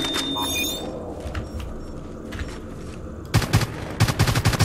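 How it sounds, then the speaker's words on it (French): Assault rifle fire in the game Evolve, bursts of rapid gunshots that start sparse and grow dense and loud near the end, over a background of game noise and low rumble. "tu recules et tu allumes le tir en fusil d'assaut pour qu'il charge"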